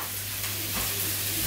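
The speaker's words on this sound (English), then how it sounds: "she's got onions in the pan" Onions frying in a pan in a home kitchen, a steady dense sizzle running continuously and fairly loud throughout, with no talking.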